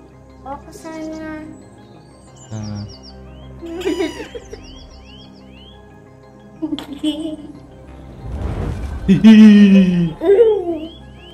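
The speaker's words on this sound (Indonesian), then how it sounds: "kok aku dengar suara burung?" Short bursts of high, chirping bird calls in the video game I Am Fish come and go over a synthetic game soundscape, with a person's voice and laughter breaking in between.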